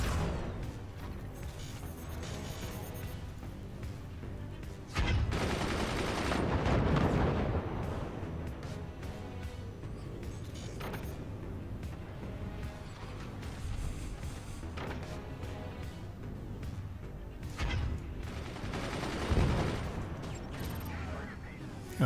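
Missiles and gunfire boom and crackle through a battle in the physics strategy game Forts, with dense layered explosions swelling around the middle and later blasts standing out, under steady game noise and voices talking.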